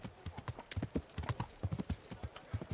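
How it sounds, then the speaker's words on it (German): A horse is ridden at a trot in the medieval game Kingdom Come: Deliverance, its hooves clip-clopping in a quick, steady rhythm of close, distinct thuds with no talking over them. "Da reiten wir nochmal kurz zum Aktivitätengeber rüber."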